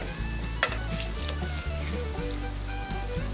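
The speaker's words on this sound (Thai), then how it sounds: "แล้วก็ทอดที่เหลือต่อไปให้หมด" Pumpkin quail egg snacks deep-frying in hot oil give a steady, close sizzle with soft crackling, and a brief utensil clink rises partway through.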